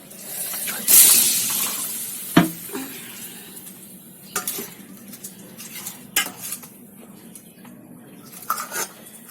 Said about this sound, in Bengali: এবার আমি কড়াইটা ধুয়ে একটু কড়াইটা ধুয়ে নেবো